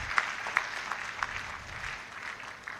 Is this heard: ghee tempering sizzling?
no